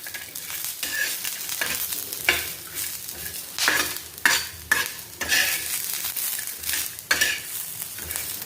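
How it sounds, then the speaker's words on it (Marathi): Coconut and spices roast on a clay griddle with repeated scraping and stirring strokes over a faint sizzle, each stroke close and rhythmic. No voices are heard. "सर्व साहित्य एकसारखं भाजून घ्यायचं आहे. इथे मी गॅस बंद करते, कारण मातीचा तवा आहे"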